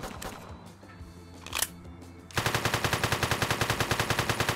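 The player's weapon fires in a video game, opening with scattered shots and clatter, then settling into a steady, loud automatic burst of evenly spaced rounds close up.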